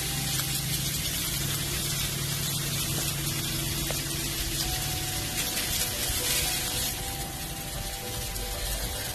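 Vegetables sautéing in a pan give off a steady, dense sizzle and hiss that holds at an even, fairly loud level throughout, with a faint tonal hum underneath.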